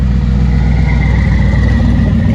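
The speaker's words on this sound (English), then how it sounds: "Cadillac with a blower." Supercharged Cadillac engine at a Route 66 car show, a loud, close, steady idle with a deep rumble and a faint whine running above it.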